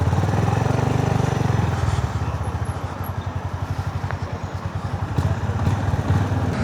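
A 2025 Honda GB350S motorcycle engine runs steadily up close, its rapid pulsing putter rising and falling slightly as the bike rides along country roads, with no talking.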